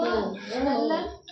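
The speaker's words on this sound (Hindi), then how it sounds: "इनको भी खांसी आ रही थोड़ी थोड़ी ना अभी।" A small child gives a few short, soft coughs in quick succession, close up and brief.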